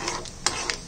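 A spoon scrapes and stirs fried ingredients into a prepared mixture in a home kitchen, giving a few quick close scraping strokes over a faint sizzle.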